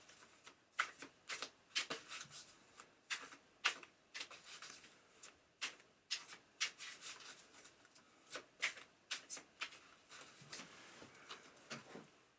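Tarot cards are shuffled and drawn for a reading, giving a close run of soft, papery riffles and rubs in irregular bursts with brief pauses between them.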